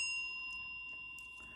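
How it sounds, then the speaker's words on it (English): A small bell rung once for luck at a tarot reading, a clear sustained ring with steady high tones that slowly fade across the moment, heard alone with no talk. "I'm going to go ahead and ring the bell for additional good juju"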